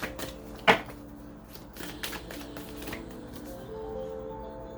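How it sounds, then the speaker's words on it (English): A tarot card drawn from a deck, giving one sharp papery snap near the start and then soft faint shuffling and handling rustles, close by and alone with no talk. "I'm gonna pull one more card."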